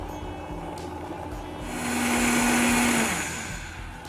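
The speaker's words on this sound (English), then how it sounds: "Let's blend this up." A kitchen blender purées roasted red pepper soup, whirring and swelling louder for a couple of seconds and then easing back, with a steady high motor hum underneath.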